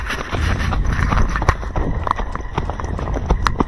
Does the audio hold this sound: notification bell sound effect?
no